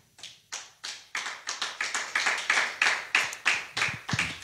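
A church congregation in Paris applauds, with clear separate claps that start sparse and build into a steady rhythmic clapping, close and fairly loud.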